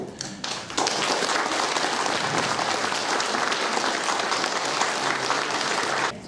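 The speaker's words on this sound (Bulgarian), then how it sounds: "моля вашите аплодисменти за 50-те общински съветници на партия АБВ" A crowd at an ABV party election rally in Varna bursts into applause for the party's 50 municipal councillors. A few scattered claps swell within a second into dense, sustained clapping that holds steady for several seconds.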